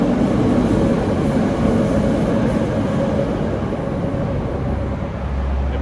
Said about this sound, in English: there's a train going above.